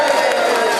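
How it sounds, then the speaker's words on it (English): A brief, dense wash of crowd applause for Mark at the 2016 Cozy Powell blue plaque unveiling in Cirencester, loud and continuous for under a second. "A bit of a round of applause for Mark"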